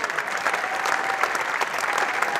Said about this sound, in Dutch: Mag ik nog één keer een geweldig applaus voor de cast.